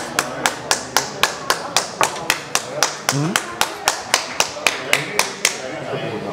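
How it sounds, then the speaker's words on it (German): Rhythmic clapping after someone finishes an XXL plate of Königsberger Klopse in a food challenge, a few hands striking in a steady even beat about three per second, close up, with a brief voice partway through. "Applaus."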